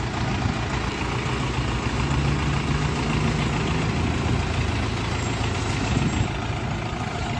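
A Jinma 40 hp mini tractor engine idles steadily nearby, a low, rumbling, continuous chug with constant loudness throughout.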